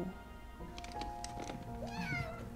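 A house cat meows and yowls in a drawn-out, wavering cry with rising and falling tones, fairly close, over a low background hum.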